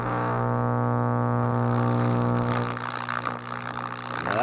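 Molten metal in a plasma furnace bubbles and churns under a loud, steady electrical hum, close up, with a rougher gurgling texture building toward the end and no talking.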